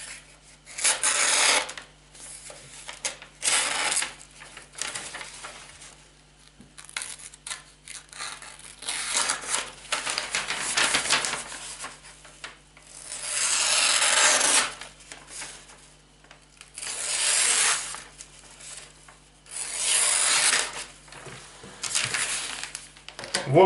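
A CardSharp credit-card folding knife slices through newspaper in repeated bursts of dry rasping, tearing paper sound, close up and steady, with brief pauses between strokes.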